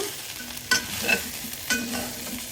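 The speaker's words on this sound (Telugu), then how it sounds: "అక్కడక్కడ చికెన్ మళ్ళీ కొబ్బరి కూడాను ఫ్రై అవుతుంది చూసారా." Chicken and coconut frying in a pan, a close steady sizzle broken by two or three short stirring scrapes, no voices.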